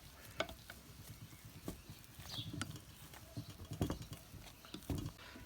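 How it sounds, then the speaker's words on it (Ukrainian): Boiled potatoes being mashed with a wooden pestle for Carpathian knydlyky dumplings, producing soft, irregular thuds and squelching pats at close range, with no talk. "беремо товкачем, зараз її треба потовкти"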